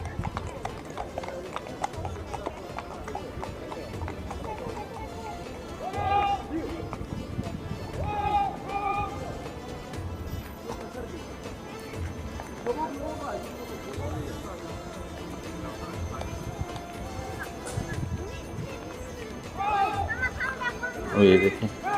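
Horses' hooves clip-clop during the changing of the palace guard in Kuala Lumpur, Malaysia, a steady rhythm of hoofbeats in an outdoor crowd, with voices talking over it throughout.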